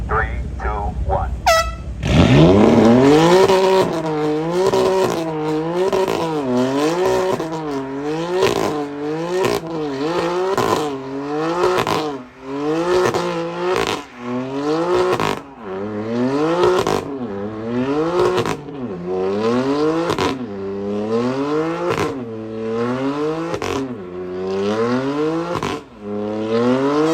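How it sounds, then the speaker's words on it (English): A BMW does a controlled burnout at a BMW car meet, its engine revving hard in repeated rising and falling surges for nearly half a minute, loud and close, with a short horn blast at the start and voices nearby. "So this should be a controlled burnout, right?"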